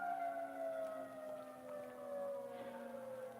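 A fire truck siren wails somewhere in the distance, a faint, slowly sliding tone that holds steady through the short stretch with nothing else over it.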